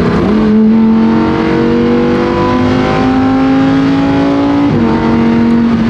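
A Lamborghini Huracán STO's engine accelerates hard, rising in a loud, close howl through the gears, with a brief dip at each shift before the pitch climbs again.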